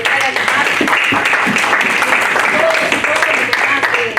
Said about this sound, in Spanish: Bueno, en representación a Roy, denle un aplauso a